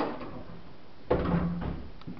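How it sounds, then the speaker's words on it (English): Small pull-out pantry drawer in a house sliding open or shut, a single soft rolling rumble with a light bump, fairly close in a quiet room. "these little pull-out pantries"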